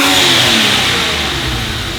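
A Ford AU Falcon's stock engine revs hard before a straight-pipe exhaust fit, giving a loud, continuous, close roar that eases off slightly across two seconds.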